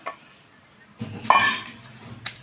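Boiled gongura leaves and rock salt are pounded in a stone mortar, producing a few close, uneven thuds and grinding knocks with a hard, clinking edge, spaced by short pauses.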